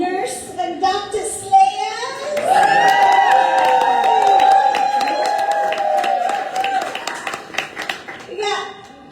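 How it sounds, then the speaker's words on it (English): An audience applauds and cheers for a Halloween costume contest, a sustained wash of clapping, shouts and children's voices rising and holding for several seconds, with a steady tone ringing underneath. "So the loudest applause gets the main prize."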